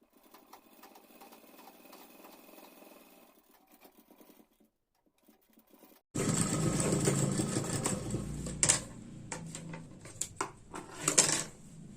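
A sewing machine stitches blouse fabric, faint ticking handling sounds at first, then a brief pause before the motor starts with a loud, steady whir punctuated by sharp clacks.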